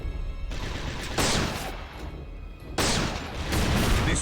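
Grenades explode in the video game Resistance: Retribution, with two heavy, loud bursts of broad noise about a second and a half apart, each rumbling on before fading under constant background game noise.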